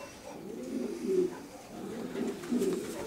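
Racing pigeons cooing softly in a loft, several low throaty coos repeating in two rounded bursts, fairly close and quiet with no talk over them.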